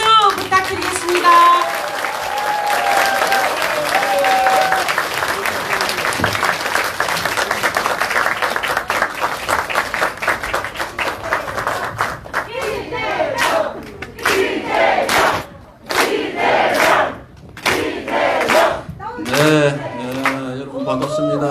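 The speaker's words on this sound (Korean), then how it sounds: "여러분 큰 박수 부탁드리겠습니다." A large indoor audience at a political party talk concert claps and cheers loudly for about twelve seconds, then someone speaks while scattered clapping and shouts continue.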